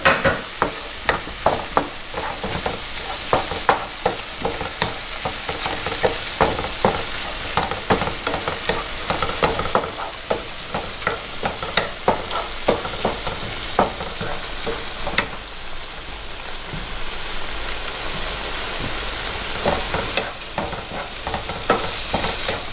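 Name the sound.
sautéing tomato with parsley and basil in a pan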